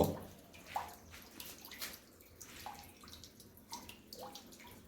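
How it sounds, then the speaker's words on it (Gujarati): Water runs from a narrow pipe into a tank on a farm, giving a steady trickling, splashing flow with small gurgles and drips, moderately near and heard on its own. "હરવે પાણી આવે છે પણ આ લોકોએ નાની પાઇપ આપી છે"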